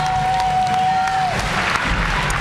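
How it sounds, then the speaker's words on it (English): An audience rising and clapping at a school graduation ceremony, a continuous crowd applause with a sustained tone sounding over it at first. "The audience begins to stand and clap as Alicia exits the stage"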